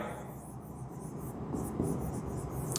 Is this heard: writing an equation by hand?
yes